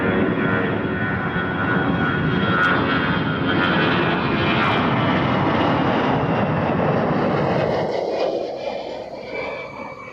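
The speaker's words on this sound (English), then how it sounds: "Let's go down to the Dreamliner." A Boeing Dreamliner jet at Toronto Pearson Airport gives a loud, continuous engine roar that holds steady and then fades toward the end, with no talking.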